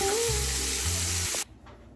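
Loud hissing sizzle of salmon frying in a pan close up, cutting off abruptly after about a second and a half.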